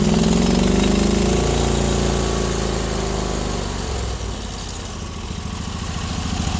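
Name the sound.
Sears garden tractor engine running rough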